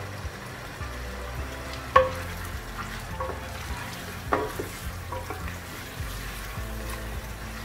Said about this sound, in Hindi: और इसको अच्छी तरह भून लेंगे 2 मिनट के लिए।